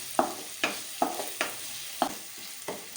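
Tomato, onion and green chilli sauté in a pan for tawa masala dhokla, with about six sharp scraping strokes of a spoon in an even rhythm over a low sizzle, close and moderately loud, no voices.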